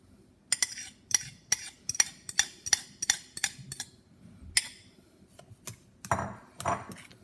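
Banana bread batter with brown sugar and eggs being mixed in a bowl: a series of sharp clinks of a utensil against the bowl in an uneven rhythm, close, followed by softer stirring scrapes.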